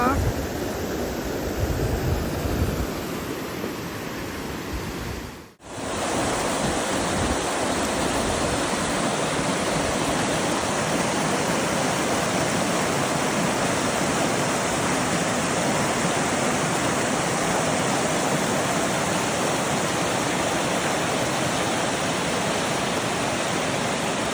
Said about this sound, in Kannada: ಹೀಗೆ ನೀರು ಬರುತ್ತಿರುತ್ತೆ. ಕಾಣಿಸ್ತಿದ್ಯಾ ನೀರು? ಹೀಗೆ ಕೆಳಗೆ ಹೋಗುತ್ತೆ.